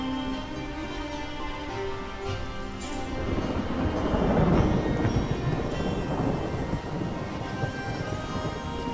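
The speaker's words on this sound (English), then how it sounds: "we got a storm in the way." Thunderstorm in Mount and Blade II: Bannerlord, a steady hiss of rain with a rolling rumble of thunder swelling in the middle and fading away, no talking.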